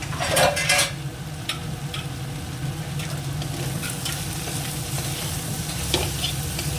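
Turmeric, chili and cumin powder frying with salt in a hot pan, a steady close sizzle with a few sharp scrapes and clinks of stirring.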